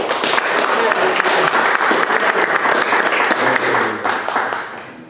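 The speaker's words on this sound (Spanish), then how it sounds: "Un fuerte aplauso, por favor" Steady applause from a crowd at a forum, dense clapping sustained for about five seconds before tapering off slightly at the end.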